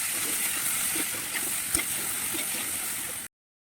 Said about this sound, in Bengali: লতিটা দিয়ে দেবো লবণ দিয়ে আস্তে আস্তে ভাজতে থাকবো